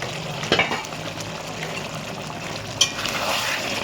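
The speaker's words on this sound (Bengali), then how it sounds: "একটু খুলে নেড়ে দিচ্ছি। ঢাকনাটা খুলে দিচ্ছি।" Chicken stirred in an uncovered frying pan for a pulao, with a low steady sizzle and a couple of sharp spatula scrapes and knocks close by.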